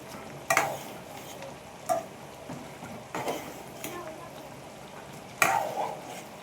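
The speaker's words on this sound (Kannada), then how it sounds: "ನೋಡಿ ಫುಲ್ಲು ಕುದೀತಾ ಇದೆ ಇವಾಗ." Brinjal curry bubbling and sizzling in a pan over a medium flame gives a soft, steady frying hiss, punctuated by four sharper stirring scrapes and clinks spread across the moment.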